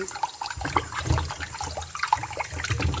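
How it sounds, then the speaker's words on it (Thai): Tap water runs steadily while raw pork belly is rinsed clean in a kitchen, a close, continuous splashing and trickling with no voices. "ล้างหมูสามชั้นให้สะอาดก่อน"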